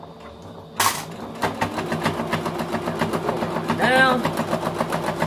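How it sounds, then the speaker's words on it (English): A sewing machine double-stitching pockets on a drawstring bag runs with a rapid, steady mechanical chatter after a sharp start, close up, while a person speaks briefly over it. "We want to like double stitch."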